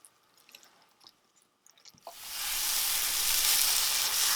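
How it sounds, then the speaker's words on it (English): Energy bite mixture cooking on medium heat. Quiet scraping and stirring come first, then a loud, sustained sizzle bursts in about halfway and holds steady to the end. "You're going to cook this on medium heat and just kind of stir it periodically."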